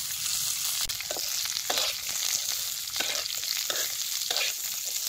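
Small fish roasting and sizzling in oil on a pan over a wood-fired stove, a steady crackling fry with repeated louder bursts as the pieces are turned, close and continuous with no talk.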